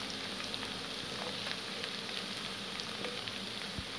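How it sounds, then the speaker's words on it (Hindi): Onions sizzle steadily in hot oil while browning to golden for an egg and potato curry, a constant even crackle and hiss with occasional small pops, moderately quiet and close. "प्याज को तब तक अच्छे से भून लें जब तक ये गोल्डन ब्राउन हो जाए"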